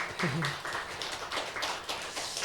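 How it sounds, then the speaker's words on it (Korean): A church congregation at a Korean Sunday service claps together in a steady rhythmic beat, with a brief voice heard near the start. "하나님께 영광의 박수 같이 올려드리겠습니다."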